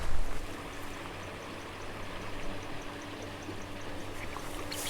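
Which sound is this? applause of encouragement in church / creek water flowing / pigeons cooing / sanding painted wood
creek water flowing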